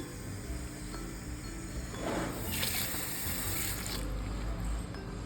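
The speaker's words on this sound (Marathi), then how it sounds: "स्वच्छ पाण्याने सगळं धुवून घ्यायचं मस्त दोन तीन वेळा" Fresh desi rose petals being rinsed in clean water for gulkand, with a continuous splashing, running-water wash that swells louder midway, heard close and without talk.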